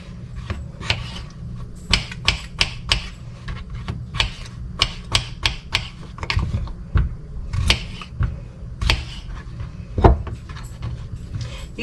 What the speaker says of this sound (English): You could dice them up or just cut them in whatever size you want.